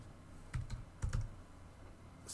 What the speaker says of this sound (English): So let's type in